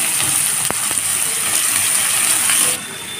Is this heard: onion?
yes